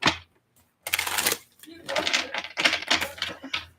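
Tarot cards riffle and slap together in quick bursts of shuffling, close and crisp, with short pauses between rounds.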